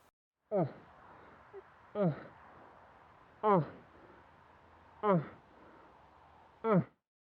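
A person imitates a bull moose with five short, deep grunts at steady intervals of about 1.5 seconds, over faint background noise.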